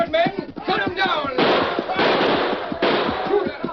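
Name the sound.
gunfire in radio drama shootout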